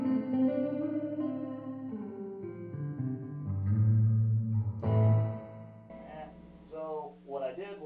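A 1966 Kalamazoo Reverb 12 guitar amp, modified, plays notes and chords drenched in spring reverb, with wobbly, washy echoes trailing each sound; the reverb signal is never turned down; no one speaks.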